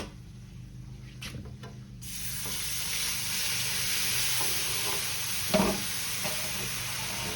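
Water poured into a hot pan of pork steaks and flour, setting off a steady loud sizzle and hiss that swells after a quieter start, with a few clinks and stirs close by.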